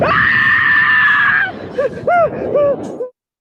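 Man waking up mid tandem skydive and screaming, a long sustained high scream followed by shorter yelps and shouts, loud and close with wind-like noise beneath.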